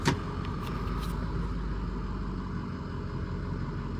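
A Ford F-250 Amarillo Edition pickup truck engine runs steadily while driving on the road, a constant low rumble with road noise, fairly faint and with no talk.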